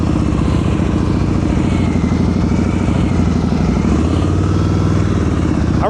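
A motorcycle engine chugs steadily at low revs during slow-speed riding practice, close and continuous with a throbbing mid-pitched note and slight changes in load throughout.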